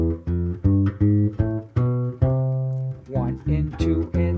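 A bass plays a bebop major scale, separate plucked notes stepping through the scale with an added flat sixth, with a brief pause midway before the line continues.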